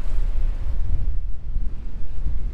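Gusty wind buffets the microphone outdoors on the remote southeast coast of Western Australia, a rough low rumble that swells and fades without pause.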